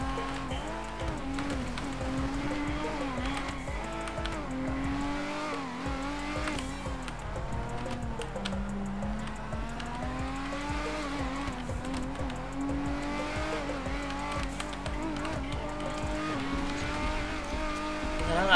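A car in GTA V roleplay revs hard with rising and falling engine pitch and occasional tire squeal, continuous and loud throughout with no clear talk.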